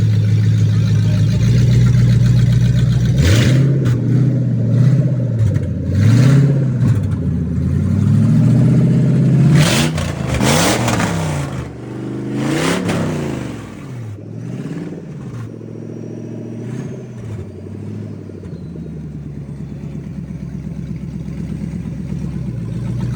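Supercharged 2UZ V8 in a 60 Series Land Cruiser, idling with a deep rumble and then blipped through several sharp revs that rise and fall, followed by a settled idle, close and loud.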